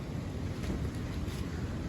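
Constant gusty wind roars and rumbles against the microphone during a maple syrup boil, a dense low noise with no speech or other distinct sounds.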